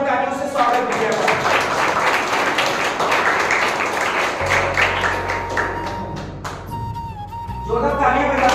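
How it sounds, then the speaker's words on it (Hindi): Audience applause greets a student called to the stage at a school sports and culture felicitation ceremony, a dense sustained round of clapping heard alongside a voice speaking over a public-address system. "जोरदार तालियों से स्वागत किया जाए"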